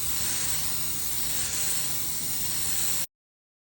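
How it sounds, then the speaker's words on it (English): Top lacquer is sprayed onto a refinished Broyhill Brasilia mid-century wood piece in a continuous, close, even hiss lasting about three seconds before cutting off abruptly into silence. "Just spray it on, long sweeping movements to get an even surface."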